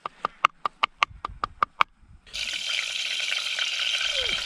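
Cooking oil poured into a pan for frying flour-coated squid outdoors at a quarry: a steady, loud sizzling hiss that starts abruptly halfway through, preceded by a series of about nine sharp, evenly spaced taps.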